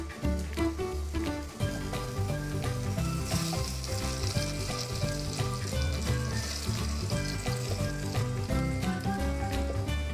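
A tablespoon of butter sizzles and fries steadily in a pan beside tomatoes, a loud, continuous crackle throughout.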